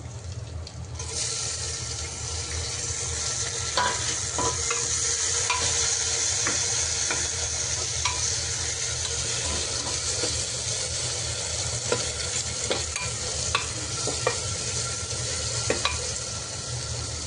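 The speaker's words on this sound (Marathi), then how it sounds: "हे बघा आपला कांदा चांगला लालसर परतलेला आहे." Onions that have browned to a reddish colour sizzle steadily in a pan, with scattered clicks and light stirring taps over a continuous frying hiss, close and even in level throughout.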